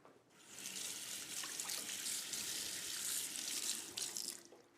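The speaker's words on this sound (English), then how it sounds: "I'm just going to wash my knife." A kitchen knife rinsed under a running tap, a steady close gush of water splashing into a sink for several seconds, with no talking.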